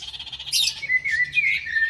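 Parrot chirping as a sound effect in a children's story about a lost parrot, a quick run of bright, high tweets and whistly squawks close by, alone without speech.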